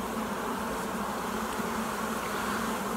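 Honeybees buzzing inside an open hive while nectar is stored in the brood cells, a dense continuous hum filling the whole moment, close and steady with no voices.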